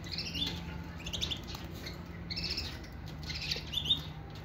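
Mosaic canaries, a nine-month-old pair kept in Baghdad, chirp in short bright bursts of twittering that come and go every second or so over a soft background murmur.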